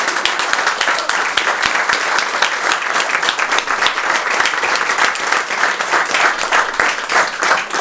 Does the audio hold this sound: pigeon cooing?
no